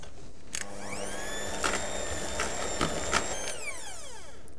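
An electric whisk runs steadily through chocolate cake batter with melted chocolate in it. Its whine rises as it starts and falls away at the end, with a few clicks and knocks from the beaters in the bowl.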